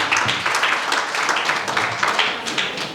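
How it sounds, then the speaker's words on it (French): A small audience claps at a business event in a hotel in Yaoundé, distinct individual claps forming a moderate, uneven rhythm, fairly close and without talk. "Applaudissez fortement pour madame."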